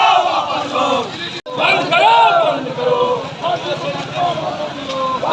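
A crowd of BJP workers shouts slogans in unison at a street protest against forest department officials, loud and close, with rhythmic chanting voices and a brief break partway through.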